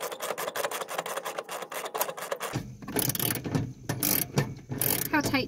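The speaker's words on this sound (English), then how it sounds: "Now I'm gonna tighten this guy back down." Ratcheting clicks of a wrench tightening a bolt back down on a John Deere riding mower during a mower belt replacement, a rapid mechanical pawl rhythm, close and fairly loud, with no talk.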